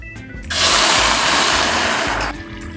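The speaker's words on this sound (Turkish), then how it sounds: "Sütümüzü ekliyoruz." Milk pours into a cooking pot for a magnolia dessert, a steady loud rushing gush lasting about two seconds that starts and stops abruptly over a low background hum.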